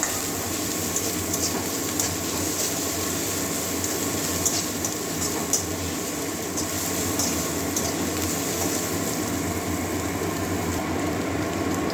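Grated ginger and garlic frying in a pan for a Bengali moong dal kalia with potato and pointed gourd, giving a steady, even sizzle throughout with no talking.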